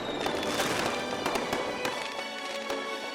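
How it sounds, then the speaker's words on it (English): Fireworks bursting over a stadium in rapid overlapping crackles and booms, a dense continuous barrage of sharp pops with a loud, steady wash of sparkle and no voices. "summons legions of fireworks and bright lights, bursting all about the stadium in flashes of beautiful color"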